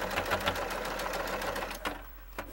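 A sewing machine stitching a fitted fabric face mask, running over the top of the tie, rattles in quick close bursts for under two seconds. A brief pause follows, then a short final whirr.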